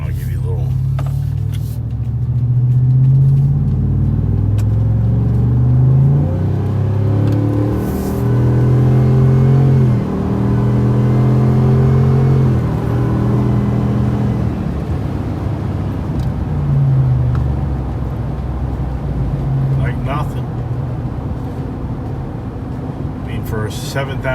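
A Ford Tremor truck fitted with an MBRP exhaust cruising on the highway, its steady low engine drone and road rumble continuous throughout, shifting in pitch now and then, with a voice speaking over it at times.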